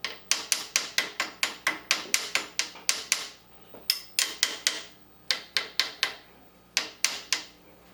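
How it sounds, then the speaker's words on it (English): A wrench tapping on a CNC dial indicator adapter of a Shapeoko XXL router, a long series of sharp, close metallic knocks in quick bursts with short pauses between groups. "Then take a wrench to slightly tap on either side of the adapter to square up the dial indicators."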